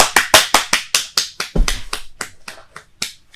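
A talk-show audience welcoming a guest claps in a crisp, evenly spaced run of about fifteen sharp claps, close and distinct, thinning out toward the end.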